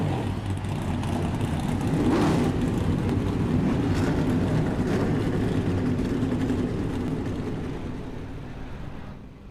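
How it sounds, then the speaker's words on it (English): Race car engines in an iRacing game at Pocono fire up and rev together, a dense droning roar with a rising surge that holds steady before fading slightly at the close. "drivers, start your engines"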